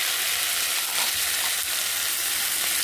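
Mango pieces fry in hot oil with mustard seeds, giving a loud, unbroken sizzle and crackle that stays steady throughout.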